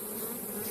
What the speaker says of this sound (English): The bees are working